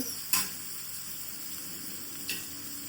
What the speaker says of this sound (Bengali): এইগুলোকে দিয়ে ভালো করে নেড়ে চেড়ে কষিয়ে নিচ্ছি